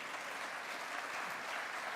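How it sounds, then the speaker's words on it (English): Soft, distant applause from a civic State of the City audience, a steady unbroken wash of many hands clapping. "They're clapping for you"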